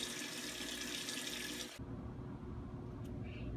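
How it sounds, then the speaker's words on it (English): Running tap water splashes steadily into a sink as hands are washed in a home kitchen before cooking, a soft continuous rush that suddenly drops off to a quieter trickle partway through. "we must wash our hands before we cook anything"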